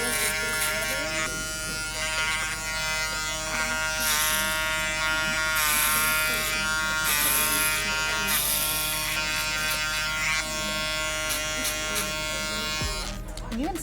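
An electric hair trimmer buzzes continuously while tapping along the fade line of a mid fade haircut, a loud, steady electric hum with slight pulsing changes as the blade moves, under faint background sound.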